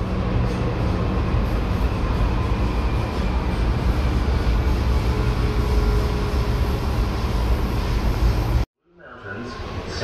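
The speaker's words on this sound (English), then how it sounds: "let's have a listen to see what metro travel sounds like" Onboard a Sydney Metro Alstom Metropolis train in motion, a steady loud rumble and rolling hum with a faint whine runs for several seconds, then cuts abruptly to a quieter pause before resuming.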